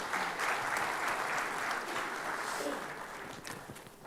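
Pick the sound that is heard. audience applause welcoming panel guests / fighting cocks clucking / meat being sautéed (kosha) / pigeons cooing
audience applause welcoming panel guests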